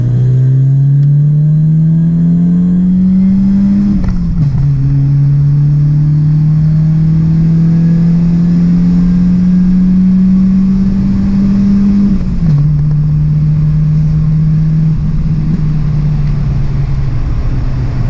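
A BMW engine hums steadily while the car is driving, loud and close from inside the cabin, with two brief dips in pitch like gear changes before the drone climbs again and holds, no talk over it.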